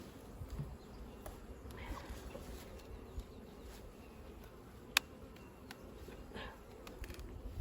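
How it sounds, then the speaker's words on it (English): Bees buzz around an open beehive during a late-season hive check, a faint, steady droning hum with occasional small knocks and clicks close by. "Lots of bees up here."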